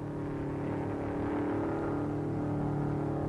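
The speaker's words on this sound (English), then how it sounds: "The car is running faster now because it will take a number of laps at a higher than average speed" An MG record car on the Bonneville Salt Flats in 1956 runs at speed, holding a steady, loud engine drone with a slight swell throughout.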